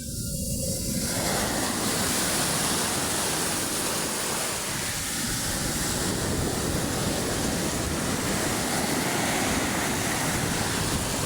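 Strong ocean waves crash and surge at the shore in a steady, loud roar of broad rushing noise that fills the whole stretch with no break and no voices.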